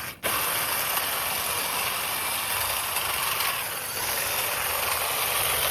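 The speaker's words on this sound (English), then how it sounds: "So here I have the hedge trimmer on there. You can see it just cuts right through it." Hedge trimmer head on a pole pruner cutting through a garden bush, a steady buzzing mechanical drone with a rattling texture, running continuously and close with a brief dip as the blades bite.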